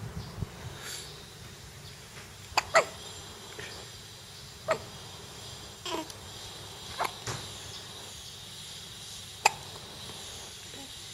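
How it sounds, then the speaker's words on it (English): Infant or child hiccups, several short sharp catches spaced irregularly a second or two apart over a steady quiet background hiss, close and fairly faint, with no talking. "We have got the hiccups one more time."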